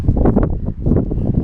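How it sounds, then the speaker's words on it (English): Gusty wind buffets the microphone outdoors while a scrap-tire trailer is being built, a loud continuous low rumble that swells and dips throughout with no clear voices. "Pardon the wind."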